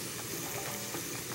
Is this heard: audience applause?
no